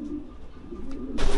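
An old breeding pigeon gives a low, throaty coo, a brief rolling call close by, followed by a sudden rustle or flutter at the end.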